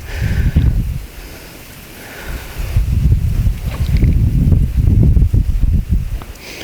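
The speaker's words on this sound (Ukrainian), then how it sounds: "Вітер опять починається." Strong gusts of wind buffet the microphone in heavy, low rumbling waves, easing briefly before building again, on the bank of the Uzh River during float fishing.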